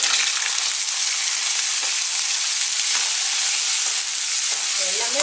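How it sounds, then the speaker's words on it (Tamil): Small onions for sambar frying in hot oil, a loud, dense, continuous sizzle heard close up, with occasional light stirring scrapes and no voices. "இப்போ இதில் வந்து இந்த சின்ன வெங்காயத்தை ஆட் பண்ணிக்கலாம்."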